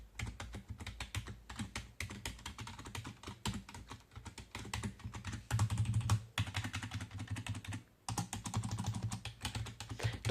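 Rapid clattering keystrokes on a gaming computer keyboard, close and fairly quiet, continuing in bursts with a couple of brief pauses and no talking.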